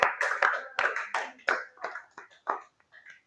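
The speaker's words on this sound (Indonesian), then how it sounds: "beri tepuk tangan untuk kelompok" Classroom applause for a student group after their discussion presentation on a toothbrushing algorithm, heard as a short burst of uneven hand claps that thins into scattered, fading claps.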